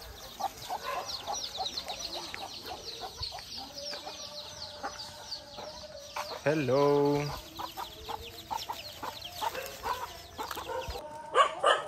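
Chickens cluck and a rooster calls nearby on a path in Bali, with chicks around, a brief greeting spoken partway through and farmyard bird noise throughout.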